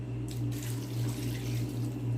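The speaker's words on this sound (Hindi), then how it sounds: "1 कप पानी डालूँगा।" A cup of water pours into chicken karahi cooking in a pan, a short continuous splashing rush of liquid over a steady low hum, close and without talk.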